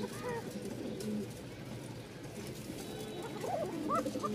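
A pigeon at a pigeon market gives soft, low coos, faint and close, in short bursts at the start and again near the end, over a quiet background murmur.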